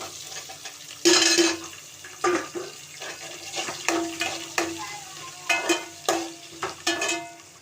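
Onions frying in a pan for a milk shark curry, with a steady sizzle broken by a series of loud, sharp stirring scrapes at irregular intervals and no talking.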